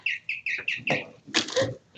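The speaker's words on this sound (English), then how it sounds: "That bird is bitching at you." A bird calls outdoors in a string of five quick, sharp chirps, close and fairly loud, followed by a harsher squawking burst; no talk over it.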